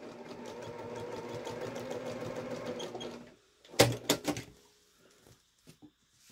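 A sewing machine quilts back-and-forth stitches on a fabric pouch, running in a fast steady whir for about three seconds, then stopping, followed by a few clacks and clunks of the machine.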